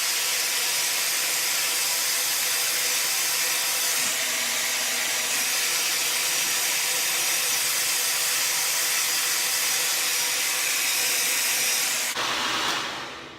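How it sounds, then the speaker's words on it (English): A hair dryer blows steadily with a loud broadband whoosh for most of the stretch, then cuts off near the end. "I'm turning off my blow dryer so you can hear me."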